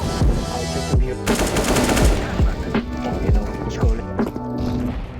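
Rapid bursts of automatic gunfire in the video game CS:GO, several close, loud volleys with sharp shots and short gaps between them.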